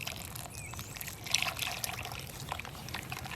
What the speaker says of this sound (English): add this to our container, and then bring over our hot water